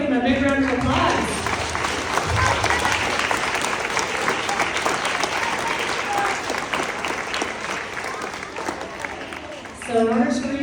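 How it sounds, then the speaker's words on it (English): An audience at an orchestra medals presentation claps loudly and steadily for about ten seconds, the clapping dense and continuous, with a voice speaking briefly at the start and again as it fades. "Now let's give them a big round of applause."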